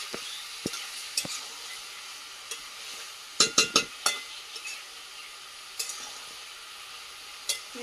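Duck meat and onions being stir-fried and braised in a pan over a wood fire give a low, continuous sizzle, punctuated by a quick cluster of sharp metallic clinks from a spatula or lid and a few scattered taps.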